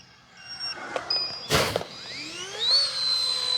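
Low-voltage battery alarm on an H-King L-39 Albatros 64mm EDF RC jet running a Turnigy 2200 pack, heard as faint high chirping tones rising and sweeping beside a brief loud gust, outdoors at a distance.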